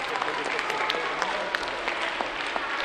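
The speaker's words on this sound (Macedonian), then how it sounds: "Таа на крајот беше поздравена со голем аплауз од учениците" Students in a crowd clap steadily after a philharmonic orchestra premiere, dense applause with scattered sharper hand claps, sustained throughout.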